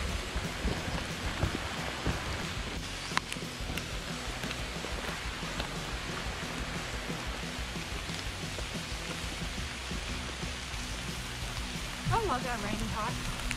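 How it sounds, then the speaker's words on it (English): Steady rain falls on a forested hiking trail on Mt Glorious, a soft, even hiss of drops on leaves and ground that continues throughout, with a brief higher sound near the end. "It's just started some really nice rain."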